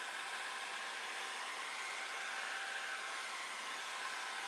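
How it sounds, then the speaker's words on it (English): A heat gun blows with a steady, even hiss and whir, close and constant with no pauses or voices. "I have a heat gun. Works a little quicker."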